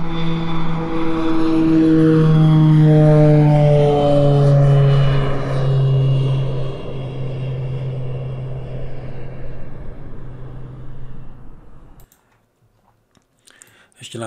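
A propeller airplane flies over in a sound effect: a loud droning roar whose pitch slides downward as it passes and fades away, then near-silence followed by a few keyboard clicks.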